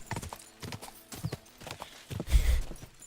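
A horse's hooves clip-clop in Kingdom Come Deliverance 2, a series of close, uneven hoof strikes with a heavier thump near the end, clear with no talk over them.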